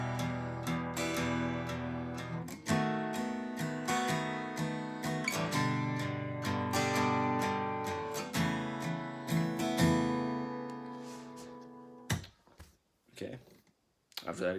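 Acoustic guitar plays the interlude of a song, strummed chords ringing continuously with steady attacks before dropping to a few sparse plucked notes near the end, close and clear with no talking.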